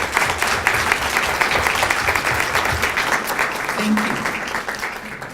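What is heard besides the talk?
audience applause for faculty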